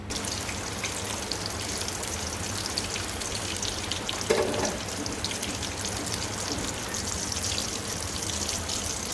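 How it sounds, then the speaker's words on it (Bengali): Pointed gourd (potol) frying in oil, giving a loud, continuous, dense crackling sizzle with one brief louder splash of spatter midway. "এখন আমি পটল ভাজবো"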